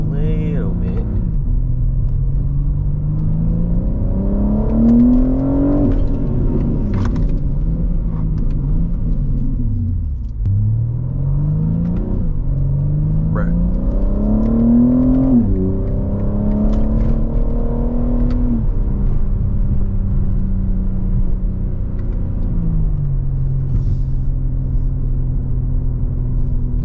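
A BMW M3 with a new exhaust accelerates hard, its loud close engine rising in pitch through several gear changes and dropping back between pulls over a steady road rumble.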